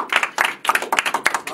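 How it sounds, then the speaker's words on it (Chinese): A small group claps together in a short burst of applause, close and lively, with uneven hand claps that swell and fade over about a second and a half. "来，掌声送给你们自己"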